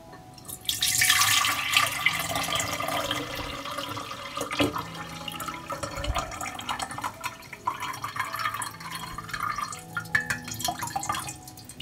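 Oat soaking liquid is strained and diluted with water, making a steady trickle and splash of pouring with scattered drips. The sound is fairly close and unbroken.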